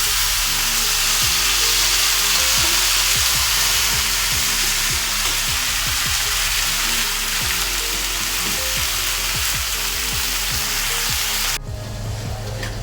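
Onions and chopped vegetables fry in a pan in a home kitchen, giving a dense, steady sizzle with frequent scraping stirs. It cuts off abruptly near the end.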